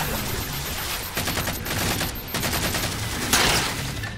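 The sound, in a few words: beam rifle gunfire in the video game Halo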